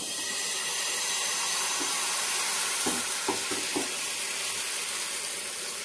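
Batter sizzles in an oiled frying pan over a gas flame, a steady close hiss with a few soft scraping stirs in the middle.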